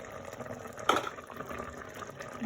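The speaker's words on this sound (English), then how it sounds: "Then I'm adding the tamarind water." Tamarind water poured into a simmering fish curry, a short splash of liquid followed by soft bubbling and trickling, quiet and close.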